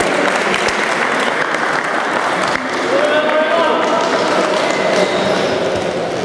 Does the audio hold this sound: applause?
yes